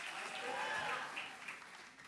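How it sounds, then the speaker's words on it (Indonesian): A church congregation applauds in a full, steady burst of many hands clapping, rising slightly then tapering off over a couple of seconds, with a voice faintly audible beneath. "Kalau mau tepuk tangan yang paling meriah untuk Tuhan yang luar biasa and shout."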